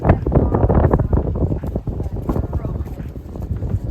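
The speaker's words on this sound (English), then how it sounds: "apologies it's so windy in the clips" Gusty wind buffets the microphone in heavy, low rumbling bursts during outdoor horse training with a two-year-old horse, with clattering movement underneath throughout.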